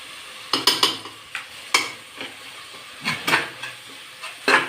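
Ginger garlic paste frying in a pan for biryani-style kuska, heard as a soft sizzle broken by several sharp scraping strokes of a spoon stirring against the metal, close and clear.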